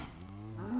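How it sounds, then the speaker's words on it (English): A cow in the Minecraft FTB modpack lets out one short moo, close and fairly loud, with no talk over it. "there's like more cows here as well"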